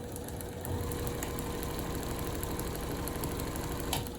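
A Kenmore Sensor Sew 70 sewing machine runs steadily under repair, its motor giving a continuous close-up hum and rapid mechanical chatter for about four seconds with a small burst near the end.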